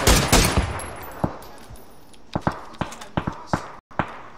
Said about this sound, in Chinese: 打了， 开枪， 又一枪，又差一枪